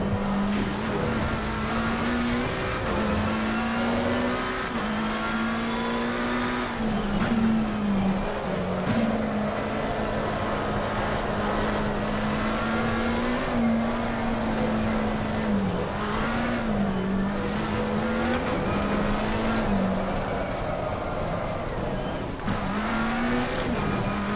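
Race car drifting sideways in Assetto Corsa Competizione VR, reverse track: a continuous engine drone holds a steady pitch, wavering and dipping as the car slides, with tire noise underneath for the whole stretch and no voices.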